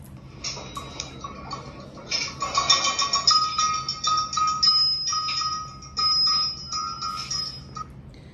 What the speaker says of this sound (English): Then we have cymbal or the tal.